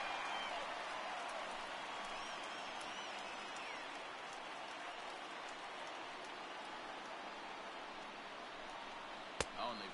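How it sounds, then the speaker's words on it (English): A baseball stadium crowd roars in a broad, steady wash of distant cheering that holds for the whole stretch, ending with a sharp thump. "Listen to that crowd."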